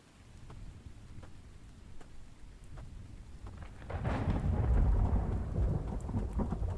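Rain and thunder in The Infected, an open-world survival game: steady patter of rain with faint drips, then a low rolling thunder rumble swells up midway and lingers, fairly quiet overall.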